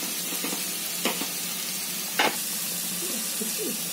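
Carrots, beans, cabbage and tomato sauté in a pan for vegetable Maggi noodles, a steady soft sizzle with a couple of sharp spatula scrapes.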